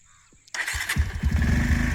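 A Bajaj Pulsar 150 motorcycle engine starts after a short quiet moment, catching abruptly and settling into a loud, close, rapid idle putter.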